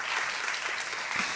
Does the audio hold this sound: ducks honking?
no